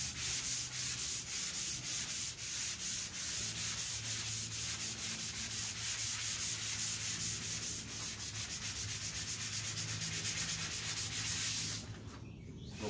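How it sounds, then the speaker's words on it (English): Painted furniture getting a light pass with a 320 grit sanding sponge across large flat areas, a continuous close, soft scratchy rubbing in quick regular strokes that stops just before the end. "I'm going to give all the large flat areas a quick pass with this 320 grit sanding sponge"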